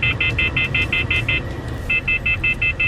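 A truck dashcam monitor sounds its AI object-detection warning alarm: rapid, evenly spaced electronic beeps in two bursts separated by a short pause, loud and close over a low steady engine rumble.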